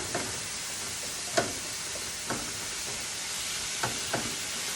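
Vegetables sizzle in a hot frying pan for homemade spaghetti sauce. A steady close hiss runs throughout, with a few soft clicks and scrapes from stirring, and no talk.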